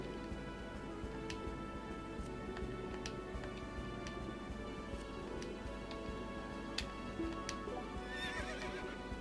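A horse whinnies and neighs in the video game Berwick Saga over a steady background of clip-clopping hooves and ambient game noise, with a few sharp ticks scattered throughout.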